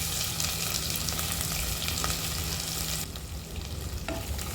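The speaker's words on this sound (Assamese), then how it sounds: "পিঁয়াজখিনি ৰঙচুৱা হোৱাকৈ ফ্ৰাই কৰি ল'ম।" Thinly sliced onions frying over medium flame for mutton biryani, a dense, constant close sizzle with light stirring scrapes, no talking.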